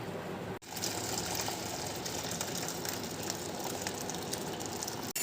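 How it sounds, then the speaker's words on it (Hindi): Cooking water from boiled raw mango pours and strains steadily, a continuous close watery gush running almost without break, dropping out briefly near the start and end. "अब हम इस पानी को फेंकेंगे नहीं, इसको छान लेंगे"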